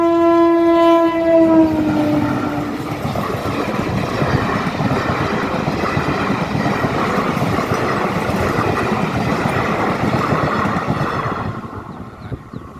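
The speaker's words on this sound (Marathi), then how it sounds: "ट्रेन आलेली आहे" A train horn sounds briefly at the start, then a train rumbles past a level crossing in Latur, India, steadily with rhythmic clatter of wheels before fading out.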